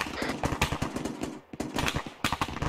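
Sustained automatic gunfire in ARMA 3 as a squad lays down suppressing fire, with rapid overlapping bursts and rattling volleys at moderate volume, briefly easing near the middle and then picking back up.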